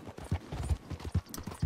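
Horse hooves clip-clopping in Red Dead Redemption 2, a steady run of dull, fairly close thuds about every third of a second, with no other sound on top.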